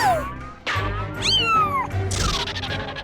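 A kitten meows loudly in several rising and falling cries, close by and somewhat plaintive, with a faint bit of background noise between calls.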